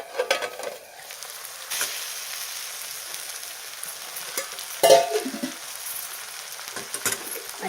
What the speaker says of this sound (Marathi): एकदा परत एकदा परतून घेऊया